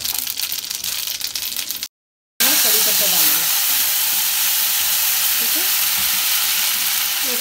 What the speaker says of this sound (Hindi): अब इसके अंदर सबसे पहले हम बिस्मिल्लाहिर्रहमान राई डालेंगे।